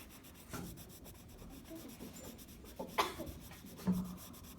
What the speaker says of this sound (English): So I do try to push my pencil down